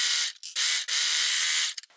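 A Brother Lock 3034DWT overlocker stitches a seam, a loud, close mechanical whir in sustained runs broken by brief pauses and stops.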